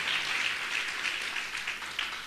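Applause from a church congregation during a worship service, a steady wash of many hands clapping together for the whole stretch, fairly loud and even.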